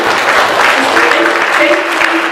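A warm-up crowd claps together in a dense, steady wash of applause, loud and close, with some voices murmuring underneath.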